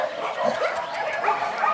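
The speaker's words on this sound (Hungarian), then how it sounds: "kis tünemény ez a kutya." A dog gives a run of soft, rapid yips and whimpering barks, close by and fairly loud, with no talk over it.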